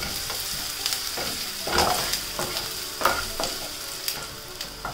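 Finely chopped garlic and crushed ginger frying in oil until golden brown, a steady nearby sizzle broken by repeated spatula scrapes and taps against the pan, no speech.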